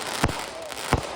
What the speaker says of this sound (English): Oh my God, it's fireworks.